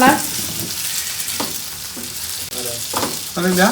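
Potatoes and onion frying together in a pan give a steady, moderately loud sizzle, with a few short tonal bursts breaking through the frying.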